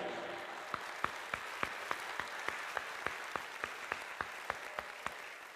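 Church congregation applauding during a sermon, a steady rhythmic clapping of roughly two to three claps per second over a soft background wash, fairly faint and even throughout.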